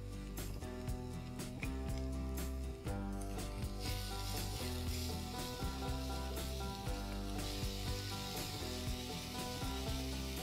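Cumin seeds and finely chopped onions fry in hot oil in a pan, giving a constant dense sizzle with occasional stirring clicks and scrapes and no voices.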